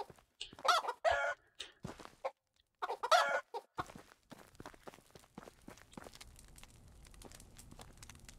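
In Medieval Dynasty, a chicken gives loud, close bursts of clucking, then quieter clucks and footsteps follow before fading into soft ambient noise.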